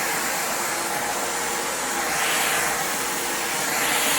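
WORKPRO grey backpack vacuum cleaner running on high suction, a steady loud whine with a broad airy roar that swells slightly midway, continuous and close with no talk.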